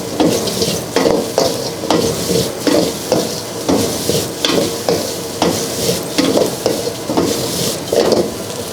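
Green curry fried rice sizzles and fries in a pan while being stirred in a steady rhythm, each scrape and toss recurring roughly every half second, close and loud with no talking.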